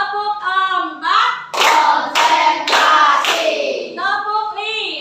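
A group claps hands in counted bursts during an Indonesian group session, about four loud, sharp rounds packed close together between stretches of a speaking voice calling out the count.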